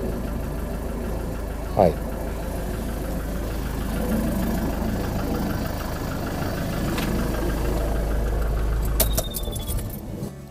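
A camper vehicle's car engine idles with a low, steady rumble throughout while charging a lithium iron phosphate sub-battery, with a brief clatter and a short spoken word near the end.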